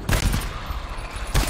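Bursts of gunfire in the cooperative horror shooter GTFO, a couple of sharp rapid volleys at the start and again at the end, loud and close with no talk.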